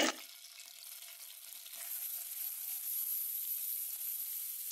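Ginger garlic paste fries in a pan for mutton liver masala, a bright close sizzle starting with a burst and holding steady, gently swelling as it continues.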